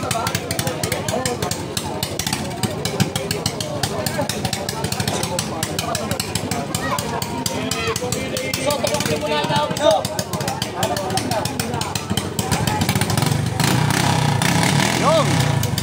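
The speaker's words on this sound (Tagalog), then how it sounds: "Kailangan mapastart na nila within 5 minutes ang kanilang mga makina." Outboard engines on wooden racing bancas at the Bayugo Bancathon race sputter and catch one after another, a dense, continuous roar of small motors building louder toward the end, with crowd voices mixed underneath.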